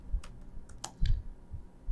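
Someone types on a computer keyboard while working in an Excel spreadsheet, producing a handful of quiet, irregular key clicks close by over a faint room hum.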